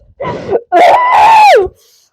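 A person screams into a microphone: a short strained cry, then a longer loud wailing scream that rises and falls off, close and alone.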